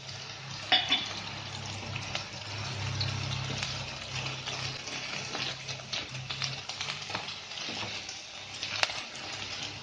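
Fish frying in hot oil in a pan for Bengali-style chilly fish, a steady crackling sizzle close by that carries on without a break and has no talking over it.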